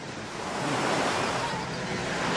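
Sea waves wash steadily onto a beach in a continuous broad roar, close and even, with a light wind hiss and no speech over it.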